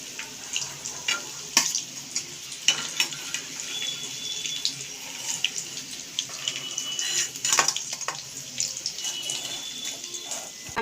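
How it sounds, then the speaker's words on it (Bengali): Manchurian balls fry in hot oil, a steady crackling hiss with scattered louder pops and spatters across the whole stretch, close and fairly loud, no voices. "এগুলোকে আমি ভাজতে দিলাম।"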